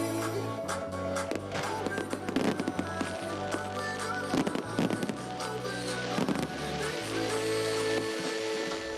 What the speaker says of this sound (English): and there were fireworks